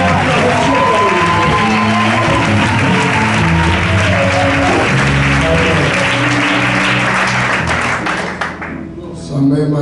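A church congregation at an annual convention applauds and cheers loudly for apostle Charles Abanda. Sustained clapping and shouting fill the room close up, a voice carries over the crowd, and the noise fades near the end.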